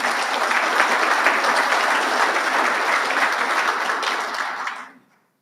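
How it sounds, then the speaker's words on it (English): Warm crowd applause at an awards dinner, a full, even wash of many hands clapping that holds steady for several seconds before quickly tapering off into silence. "A round of applause, ladies and gentlemen."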